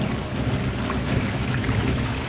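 Thunderstorm in a forest, a dense steady roar of heavy rain with low rumbling underneath, loud and continuous without a break.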